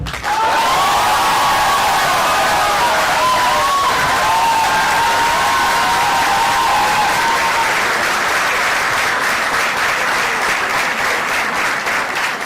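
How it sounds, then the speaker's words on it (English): A convocation audience applauds graduates in a hall, continuous dense clapping that holds steady and loud for the whole stretch, with a brief tonal whistle-like sound early on. "Now the audience can applaud"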